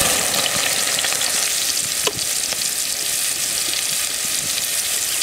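Onions frying in 6-7 spoons of hot oil for a small-fish curry, a loud steady sizzle with occasional stirring scrapes, close and continuous without talk.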